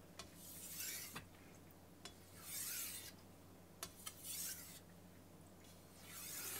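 Kitchen knife blade rasping back and forth on a soft Suisin 6000-grit finishing whetstone, with rhythmic scraping strokes in bursts, close and fairly quiet, no talk.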